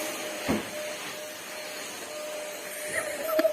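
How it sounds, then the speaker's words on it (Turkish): A household vacuum cleaner running in a village house: a steady, moderately quiet motor whine and hiss with a few soft bumps and knocks as it moves. "Kaç senedir Feridun Evliliğimizde ilk defa süpürge tutuyor kendiliğinden."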